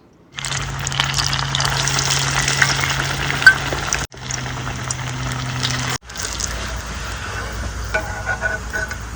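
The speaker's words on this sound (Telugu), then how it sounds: "ఇప్పుడు నూనె వేడయ్యాక మనం చేసి పెట్టుకున్న వడల్ని ఇందులో వేసుకుందాం." Vadas, chillu gare served with country chicken curry, fry in hot oil with a strong, continuous bubbling sizzle heard up close, broken by two brief cuts.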